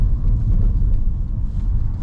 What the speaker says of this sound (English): The sound just doesn't get better than an AMG